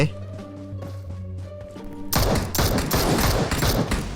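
Gunfire in the mobile shooter game PUBG Mobile breaks out as a loud, dense burst of rapid shots that continues steadily after a calmer stretch of game sound, close and harsh.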